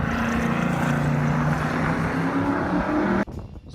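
Cars testing on the Sonoma Raceway circuit make a loud, sustained engine drone with a steady buzzing tone that cuts off sharply near the end and gives way to quieter background noise.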